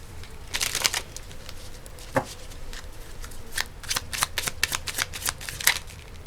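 Tarot cards being shuffled up close, a steady run of crisp riffling and flicking bursts with short pauses between, alone with no talking.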